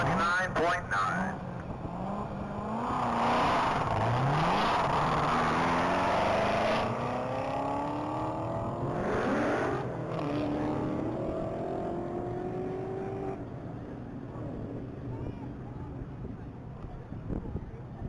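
A red 2019 Corvette Z06 accelerates hard on a Texas Mile top-speed run, its engine note climbing through gears in rising sweeps, loud at first, then fading as it pulls away under wind noise.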